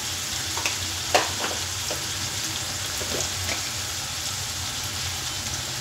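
Ginger and garlic frying with spices in a pan make a steady, close sizzle, broken by a few soft stirring scrapes and clicks. No one talks.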